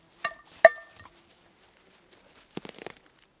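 Dried meat is struck and broken in a cast iron pan, giving two sharp metallic clinks early on, a quiet stretch, then a cluster of light crackling and snapping near the end.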